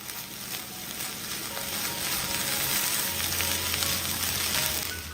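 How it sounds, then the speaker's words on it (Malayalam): Curry with fresh coriander leaves sizzles and crackles steadily in a frying pan as it is gently stirred, a continuous close frying hiss with no talk. "ഇനി ഒന്ന് ഇളക്കി കൊടുക്കാം"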